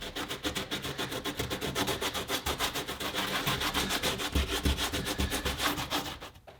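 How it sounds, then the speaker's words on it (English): Fingers rubbing the rough road surface on a model train layout, a steady, close scratchy friction in continuous back-and-forth strokes with no talking. "See if I can just kind of rub it and get it in there."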